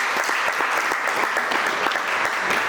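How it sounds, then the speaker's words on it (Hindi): Audience at a Hindi stage play by a theatre troupe applauds for the mother, with dense, steady clapping from many hands continuing throughout at close range. "तो उस माँ के लिए तालियां बजाई"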